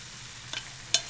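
Fettuccine stirred in a pot with olive oil over raised heat, a soft background sizzle broken by two short scraping stirs, the second louder and crisper, no voices.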